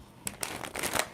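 Tarot cards being shuffled by hand: a quick run of soft, crisp riffling flutters and light slaps in close succession, fairly quiet and close, with no talking.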